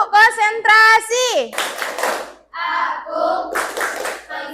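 In a classroom, a group claps in rhythmic bursts, led by a teacher, mixed with sung and chanted voices; loud, close, and clearly patterned.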